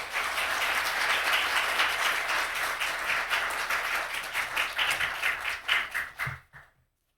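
A church congregation claps in steady applause to welcome a guest speaker at a Sunday evening service, a dense wash of hand claps that carries on for about six seconds before fading out at the end.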